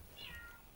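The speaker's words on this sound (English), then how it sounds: "I guess you can hear my cat scream at the background." A house cat gives a single short, faint meow in the background of a quiet room.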